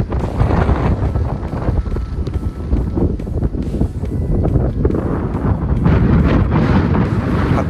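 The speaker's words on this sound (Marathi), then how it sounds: "पण जोरात वारा सुटलेला आहे" Strong wind gusting outdoors near the Kankeshwar temple hill in Alibag after rain, loud buffeting roar across the microphone that swells and surges continuously.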